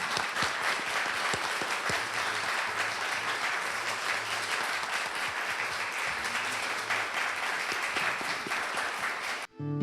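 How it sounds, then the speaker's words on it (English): An audience applauds steadily after a panel colloquium session, a dense, even wash of clapping lasting several seconds before cutting off abruptly. "we'll give a round of applause"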